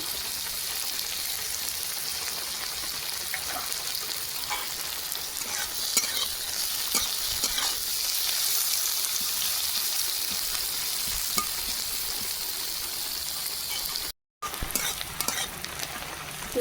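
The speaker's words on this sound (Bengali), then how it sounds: "ভাজা রসুন ভাজা ভাজা হয়ে গেছে" Garlic frying in a pan gives a continuous close sizzle with light stirring scrapes, an even crackle that holds throughout with one brief dropout near the end.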